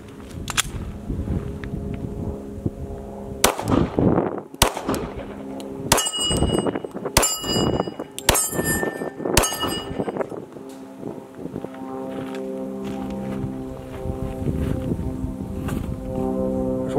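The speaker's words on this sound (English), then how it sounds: "I'm going to put 4 magazines of 40 caliber ammo through the Glock 23." A Glock 23 pistol fires reloaded .40 caliber rounds loaded with small rifle primers: about six sharp, loud reports come at irregular intervals, each followed by a brief metallic ring, over a steady background hum.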